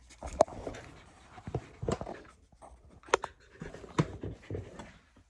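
A dog pants indoors in short, irregular breathy bursts, close but fairly quiet, with soft pauses between the huffs.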